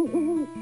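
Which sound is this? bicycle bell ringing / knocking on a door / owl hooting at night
owl hooting at night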